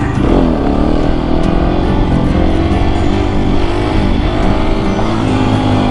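Husqvarna 701 single-cylinder motorcycle engine revving hard during a wheelie attempt, loud and close with a steady throaty roar and slight throttle surges throughout.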